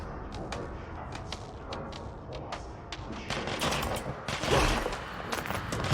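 Gunfire in the game Control arrives as a run of sharp cracks, sparse at first and then denser and louder, with mechanical clatter around them and no talk over it.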